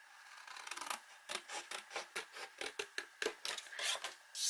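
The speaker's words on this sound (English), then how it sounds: "we're going to cut the top half out on this one, and we're going to cut the bottom half on this other one" Paper for a mini album being cut, a quick run of about a dozen crisp, rhythmic snips and rasping strokes, close and fairly quiet.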